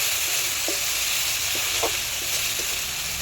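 A ginger, cumin and coriander paste sautéing in oil for a fish-head muri ghonto, a continuous close sizzle with a few soft stirring knocks.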